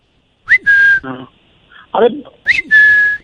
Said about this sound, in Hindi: उसके गले में वो गुब्बारे वाली सीटी अटक गई थी।